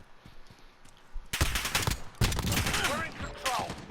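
Heavy shotgun blasts from the 725 in Call of Duty Modern Warfare, two loud booming shots separated by a short pause, set among quieter game noise and clatter.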